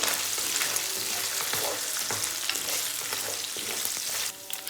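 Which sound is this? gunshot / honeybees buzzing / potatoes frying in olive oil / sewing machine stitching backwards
potatoes frying in olive oil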